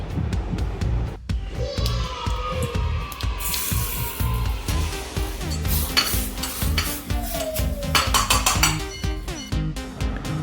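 Cumin and mustard seeds hit hot oil in a small tempering pan, giving a close, busy sizzle and crackle, mixed with metal spoon clinks and stirring scrapes against the pan.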